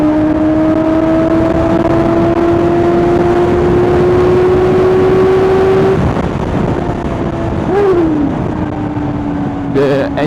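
A KOVE 450R motorcycle engine hums steadily at high revs while riding, its pitch climbing gradually before it drops and shifts near the end, all under constant wind and road noise.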